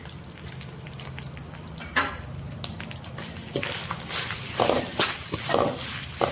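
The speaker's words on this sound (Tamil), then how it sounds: "அடுத்தது தேங்காய் போடுறோம் தேங்காய் நல்லா செவக்கிற வரைக்கும் வணக்கணும்" Grated coconut fries with chillies and curry leaves in a pan, a low sizzle that grows to a brighter steady hiss midway, with stirring clatters and a brief knock, close and without talk.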